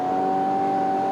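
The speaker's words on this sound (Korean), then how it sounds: "엔진 소리죠. 엔진 소리. 제가 이제 몇 번 다시 말씀을 드린 것처럼 엔진 소리가" A 2018 Kia Optima K5 GT with a 2.0 turbo engine revs steadily, a sustained engine drone with a clear whining tone holding at a constant pitch, close and moderately loud with no talk.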